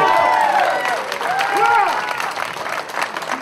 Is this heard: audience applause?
yes